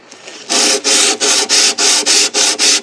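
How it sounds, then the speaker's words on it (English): Hand plane shaving a classical guitar fretboard, eight loud, evenly spaced rasping strokes in a steady rhythm, close and alone. "When I'm done planing the angle into the fretboard"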